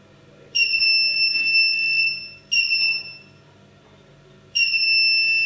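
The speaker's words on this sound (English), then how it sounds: "You'll also hear a certain beep noise when the connection is on." Three sharp, high electronic beeps from a security camera DVR on connecting, sounding at regular intervals, each lasting over a second, clear and loud over a quiet room hum.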